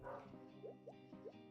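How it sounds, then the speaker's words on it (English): A dog indoors yips and barks in a few quick, high-pitched bursts, close by and moderately loud, with a whiny edge between the barks. "sorry if you hear the dog barking and everything"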